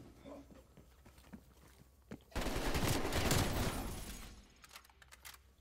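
Hip-fired gunfire in the video game Call of Duty: Black Ops Cold War, a loud sustained burst of rapid shots lasting over a second amid scattered game sounds, with no speech.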